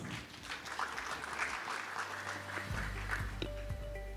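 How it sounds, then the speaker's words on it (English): An audience at an ASEAN maritime security dialogue applauds the panelists, a moderate, steady patter of clapping heard at a distance with a low hum in the room. "Once again, let's give them a round of applause."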